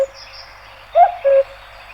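A cuckoo calls twice in a forest, a clear two-note coo-coo, moderately close against a quiet, faintly hissing background.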